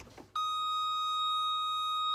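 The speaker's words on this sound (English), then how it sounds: "it has the most annoying beep when you open the door" Door-open warning chime of a Ferrari 355 Spider, a pure, steady electronic tone that starts abruptly and holds continuously, loud and close.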